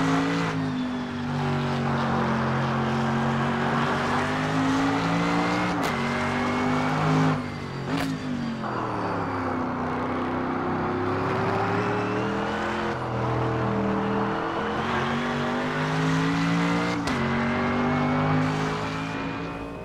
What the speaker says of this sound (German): Ja, richtig, richtig fettes V8-Geböller, Leute.